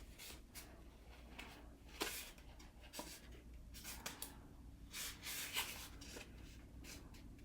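A paper printable folder with a vintage coastal design being bent over at its edge, giving soft rubbing and scraping paper sounds, faint and close, with a few light crinkles over a steady low background hum.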